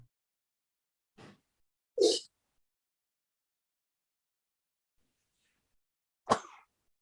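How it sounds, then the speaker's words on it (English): A single sharp human sneeze bursts out close and loud in an otherwise quiet room, followed a few seconds later by another short breathy burst, with a faint small sound just before. "I had to sneeze."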